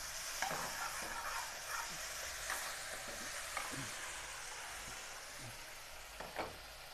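Chili garlic sauce sizzling in a pan as it is stirred, a soft steady frying hiss broken by repeated scraping strokes of a utensil at an irregular rhythm, close but fairly quiet, with no talk.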